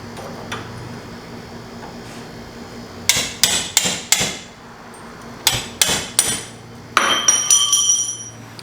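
Hammer blows drive a chisel during a strut replacement on a 2004 Hyundai Santa Fe, coming in sharp metallic bursts of several quick strikes with pauses between, close and loud.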